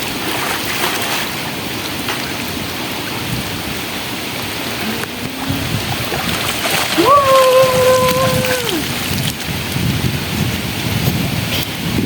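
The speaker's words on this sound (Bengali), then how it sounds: "এখন আমরা হচ্ছে পুকুরে গোসল করবো, অনেক বছর পরে পুকুরে গোসল করতেছি।" Water splashes loudly and continuously as people bathe in a village pond during a rainstorm, with rain noise throughout and a voice rising briefly over the churning water.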